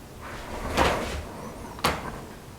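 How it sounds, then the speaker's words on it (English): A door opened inside an old house, two distinct knocks or thuds about a second apart, fairly close, with quiet room tone between. "I heard you open the door."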